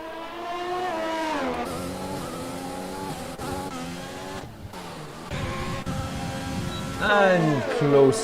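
Race cars in an F1-style league race at the Italian Grand Prix run down the main straight, engines rising in pitch through upshifts and passing in close succession, under steady commentary.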